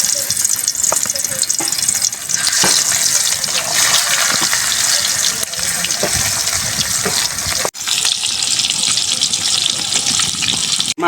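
Turmeric-and-salt-rubbed snakehead fish sizzling in hot oil in a pan, a loud continuous frying hiss with crackles and occasional stirring clatter, one brief drop near the end.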